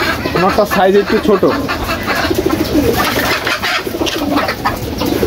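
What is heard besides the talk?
brown-eyed pigeon cooing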